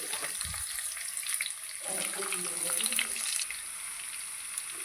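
Chopped onion sizzles in hot oil in a pan, a steady frying hiss that swells after about two seconds when the onion goes in. A few soft stirring sounds mix with it.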